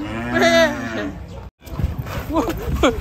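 An agitated cow lows loudly just after being unloaded from a truck. Two close, drawn-out moos are heard, with people talking nearby.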